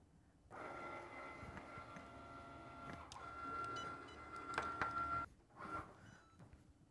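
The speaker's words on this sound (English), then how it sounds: "We will then load it into our Cricut and let the machine" Cricut cutting machine working through iron-on vinyl: a faint continuous mechanical whir with a steady whine, shifting carriage movements and small clicks, stopping briefly before a short final burst.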